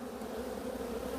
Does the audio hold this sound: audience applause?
no